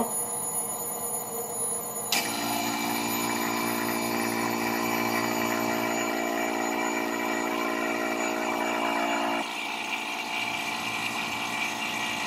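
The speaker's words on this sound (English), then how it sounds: "Now we're going to put a vacuum on this system to suck out some air." A vacuum pump evacuating a bell jar starts abruptly and runs with a steady, loud mechanical drone and whine for several seconds, then cuts back to a quieter background hum.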